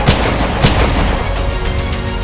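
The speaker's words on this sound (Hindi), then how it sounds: "पिस्तौल निकालकर दनादन फायरिंग शुरू कर दी" Pistol gunfire at a highway toll booth: two sharp shots about half a second apart ring out over a loud, steady background roar.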